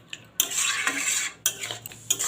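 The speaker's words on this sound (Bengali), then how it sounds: "এবার দিয়ে দিচ্ছি বেটে রাখা পোস্তটা দিয়ে ভালো করে আমি নেড়ে চেড়ে মিশিয়ে দেবো।" A utensil scrapes and clinks against a pan while ground poppy seed paste is stirred together with onion stalks, in several close, uneven bursts with short pauses between them.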